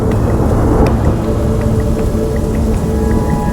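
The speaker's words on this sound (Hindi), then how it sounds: "बाहर तूफान की गर्जना हो रही थी" A thunderstorm rages outside, with low rumbling thunder over a dense hiss of steady rain and scattered raindrop hits, loud and continuous throughout.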